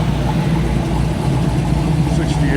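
A 1969 Pontiac Firebird's engine rumbles low and steady at a car cruise along the Pacific Coast Highway, idling and running nearby amid ongoing traffic and outdoor background noise.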